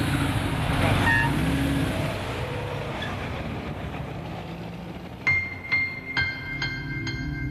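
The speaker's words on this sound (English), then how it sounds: "It's like absolute crazy traffic around it." Traffic rumbles through a busy Lima street, with engines droning and a vehicle passing near, followed by several sharp horn blasts toward the end.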